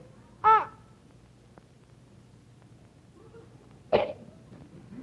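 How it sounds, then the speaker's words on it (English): Two short coughs, one near the start and another a few seconds later, separated by a quiet stretch with faint background noise. "he has had a little cough now and then"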